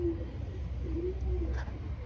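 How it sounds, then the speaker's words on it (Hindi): A pigeon kept on a rooftop coos softly in a few low, rolling calls over a faint background hum, with no speech. "कोठे से ही कबूतर आवाज आया"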